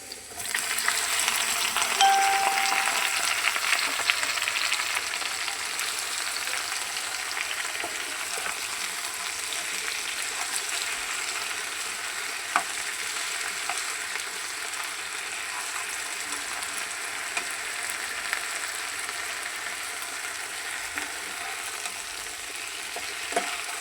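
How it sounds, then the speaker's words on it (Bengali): Spices tempering in hot oil for a Malabar spinach and chickpea lentil dish give a steady, soft sizzle that carries on evenly throughout, with no talking. "শাকটা আমি সিদ্ধ করে নিচ্ছি এখন বাগার দিয়ে নিতেছি"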